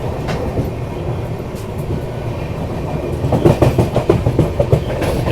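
Mumbai Indore Duronto Express running past Lakshmi Nagar station near Indore, a steady low rumble of the moving train that builds into sharper rhythmic clickety-clack over rail joints in the last seconds.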